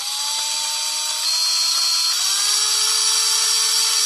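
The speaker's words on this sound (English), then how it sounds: "Go slow until your drill grabs." A power drill bores slowly into wood, a steady high whine with a faint rising pitch as the bit bites, loud and close with no talk.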